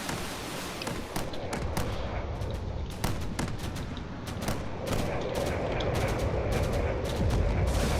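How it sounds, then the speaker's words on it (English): Cannon fire in a space battle video game: a rapid barrage of sharp booming shots, some overlapping, repeating irregularly over a steady low rumble. "As long as they can avoid the cannon fire"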